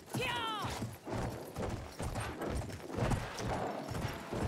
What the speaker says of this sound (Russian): Думаю, я вот здесь оставлю свою лошадь.